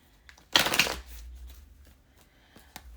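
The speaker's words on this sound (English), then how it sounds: "I'm just trying to shuffle." Tarot cards shuffled by hand in one quick riffling burst, close and crisp, then a few faint taps and rustles in a quiet room.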